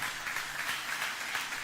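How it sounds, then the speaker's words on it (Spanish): Applause from a church congregation at a pastor's 30th anniversary service, a steady dense wash of clapping held at an even moderate level throughout. "denle un aplauso al Señor"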